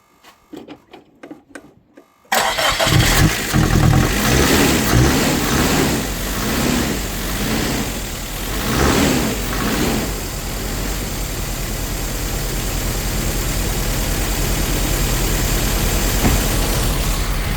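A Nissan S13 200SX turbo engine, bought abandoned, catches after a few short cranking bursts and then runs loud and close with a rough, uneven idle that gradually settles.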